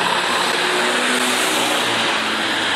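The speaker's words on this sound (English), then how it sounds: "Gotta get around this bus that says not in service." An out-of-service city bus on Danforth Avenue in Toronto, heard from a bicycle as it is passed: a steady, fairly loud engine rumble blended with broad road and wind noise throughout, with no voices.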